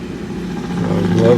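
A 2020 Toyota Highlander Limited AWD engine turning over and settling into a close, low steady idle after a push-button start, with some speech-like sound mixed in.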